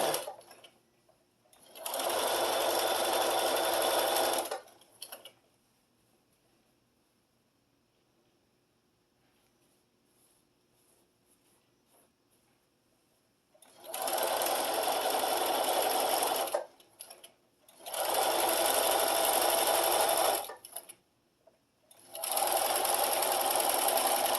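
A sewing machine stitches a quilt runner strip in several runs of steady whirring, a long one early, then three more after a quiet gap, close and clear, with no voices.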